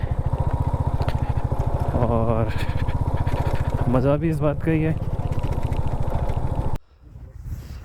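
Motorbike engine throbbing steadily while riding a rough, broken mountain road in Ladakh, a loud continuous drone with someone talking over it before the engine noise suddenly drops away near the end.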